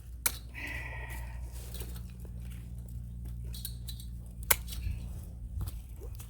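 Cutters snip excess electric fence wire outdoors, giving two sharp, close metallic clicks a few seconds apart over a low steady background hum.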